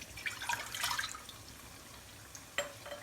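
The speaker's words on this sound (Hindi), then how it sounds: "इसके अंदर हम 1 गिलास पानी डाल लेंगे" Water splashes and trickles briefly into a pressure cooker, then fades, with a short clink or splash near the end; no talking.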